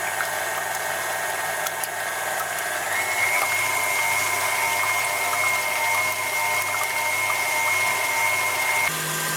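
An electric mixer whips egg whites, its motor giving off a steady whine that steps up in pitch partway through as the speed rises, constant and close, with no voices.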